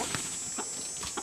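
Hybrid gold hens on a farm cluck in short separate bursts, about four soft calls spaced apart over a steady background hiss.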